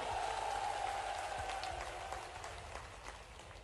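A large crowd at a Ladli Behna rally in Lahar, Bhind, claps in sustained, dense applause, a continuous crackling patter that fades gradually over a few seconds.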